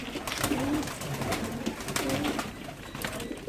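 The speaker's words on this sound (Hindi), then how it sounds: "ये टैडी कबूतर है" Champion pigeons kept at a home loft coo in repeated soft, throaty bursts, several calls overlapping at close range against a steady background murmur.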